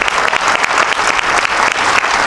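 Loud, dense audience applause at a comedy gala in Cannes, a steady wash of many hands clapping close by with no talk over it.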